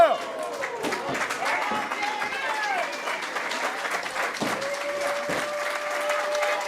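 Crowd at a wrestling match breaks into sustained applause and cheering, a dense, even clatter of clapping with scattered shouts running steadily throughout, moderately loud and close.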